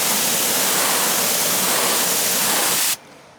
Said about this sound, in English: it's just water's falling off